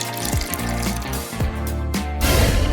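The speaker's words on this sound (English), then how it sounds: "Add water, there's plenty down here." Water pours and splashes into a small paper-craft toy tub, in uneven gushes with a few sharp clicks. The sound is close and fairly loud, with no talking.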